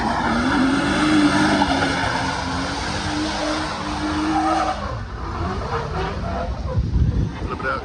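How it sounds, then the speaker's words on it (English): Drift cars at a charity drift event for disabled veterans, with engines roaring and tires squealing in sustained sliding passes, loud and continuous, with voices mixed in. "It's a drift event for disabled veterans."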